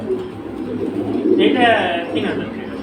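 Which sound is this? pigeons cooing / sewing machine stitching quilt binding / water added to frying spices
pigeons cooing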